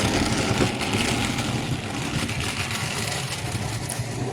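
A rattly Wrenn Class 08 model shunter locomotive runs steadily around a layout, giving a continuous close mechanical buzz and clatter with a low motor drone, no voices.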